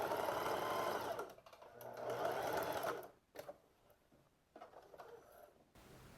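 A sewing machine backstitches at the end of a seam on pleated shorts, running in a steady whir for about three seconds, then stopping and restarting in short, softer bursts.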